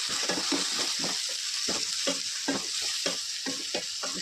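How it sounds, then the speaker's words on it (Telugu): Spring onions sizzle in a pan with turmeric and salt as a spoon stirs them, giving a steady frying hiss with regular scraping strokes close by and no voices. "ఈ రెండింటిని బాగా కలుపుకుందాం."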